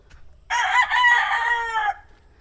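A rooster lets out one loud, drawn-out crow close by, about a second and a half long, with quiet before and after.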